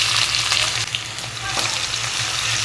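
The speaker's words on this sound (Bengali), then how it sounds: "পেঁয়াজটা হালকা করে একটু ভেজে নেব।" Chopped onion frying in oil in a frying pan, a steady loud sizzle with crackling and occasional stirring scrapes, no voices.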